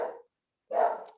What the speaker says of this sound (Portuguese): Meus cachorros.